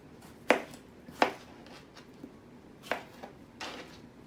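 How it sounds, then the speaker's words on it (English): A knife cuts washed tomatoes into quarters for salsa on a cutting board, giving four sharp, separate chops spaced unevenly, close and fairly quiet, with nothing else around them. "I'm gonna cut them in fourths"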